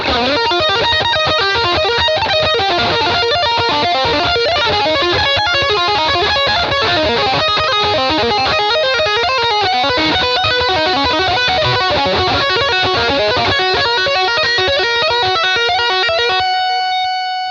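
Distorted electric guitar through a BOSS GT-1000 multi-effects processor plays a continuous run of notes and chords, loud and steady, ending on a sustained ringing note.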